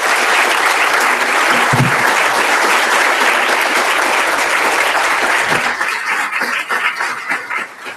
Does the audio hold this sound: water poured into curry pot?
no